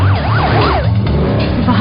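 A wailing ambulance siren sweeps up and down in quick, rising-falling cycles over road traffic rumble, loud and close, then fades slightly toward the end, with no talk.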